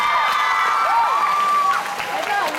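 A crowd applauds and cheers at the opening of a district festival, loud continuous clapping with shouts, while a voice is also heard.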